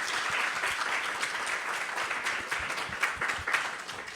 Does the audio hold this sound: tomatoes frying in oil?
no